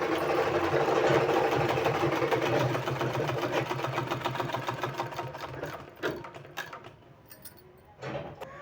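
A sewing machine stitches piping onto a suit neckline in a fast, steady run of clattering stitches, then slows into short stop-start bursts near the end.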